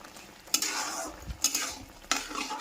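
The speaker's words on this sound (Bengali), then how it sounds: "চিনি দিয়ে মিশিয়ে নেওয়ার পর" A spoon scrapes and stirs through tomato chutney as sugar is mixed in, making three distinct close scraping strokes over a soft simmering sizzle, with no voices.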